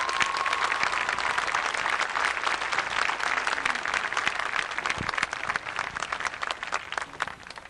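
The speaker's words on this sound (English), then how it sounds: "if you join me in showing your applause to these fine students" A graduation-ceremony audience applauds the 1993 Tahlequah High School graduates in Oklahoma, with dense, sustained clapping from a large crowd that stays steady throughout.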